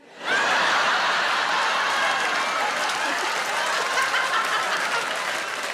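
A comedy show crowd bursts into loud applause and cheering, rising sharply within the first moment and then holding as a dense, sustained roar of clapping with some laughter mixed through.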